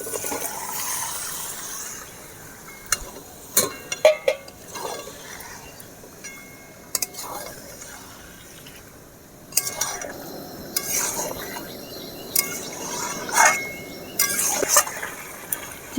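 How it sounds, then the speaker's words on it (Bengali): Marinated chicken goes into hot spiced oil in a pan and gets stirred, with scattered clanks of a spoon against the pot and soft wet shuffling, the clatter rising in bursts over a quiet background. "এবারে আমি চিকেনটা দিয়ে দেবো, ম্যারিনেট করা চিকেনটা এবারে দিয়ে দেবো।"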